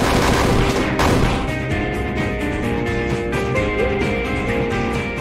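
A Barrage skill attack in the video game Eternal Twilight, played on Hell/True Hard difficulty, erupts as a dense, continuous volley of rapid-fire bursts, loud and sustained for several seconds without speech.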